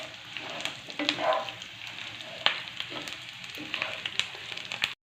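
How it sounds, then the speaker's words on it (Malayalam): Curry leaves sizzle in hot oil with frying ginger, garlic and chilli as a spoon stirs them, a steady crackling hiss broken by a few sharp scrapes and pops. "ഇനി നമുക്ക് കറിവേപ്പില ഇട്ട് കൊടുക്കാം ഇച്ചിരി. നമുക്ക് ഇളക്കാം ഗൈസ്."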